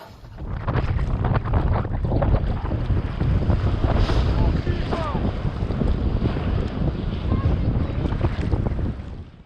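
Massive tidal surge waves crashing over a seawall in Qingdao, China, heard as a heavy continuous roar of water and surf with strong wind buffeting the microphone and faint distant voices underneath.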